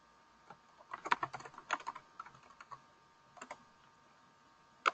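Keys clatter on a computer keyboard while a new grid name is entered in software, coming in irregular bursts of close, crisp clicks with short pauses between them and no talking.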